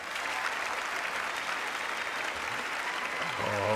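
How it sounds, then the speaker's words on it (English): Republicans in the audience at the State of the Union applaud in a dense, steady wash of clapping from a large crowd that holds throughout, with a low voice emerging near the end. "you got a few Republicans clapping there"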